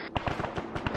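Several sharp, booming gunshots from the video game Arma 3 crack in quick irregular succession, loud and close, with no voices over them.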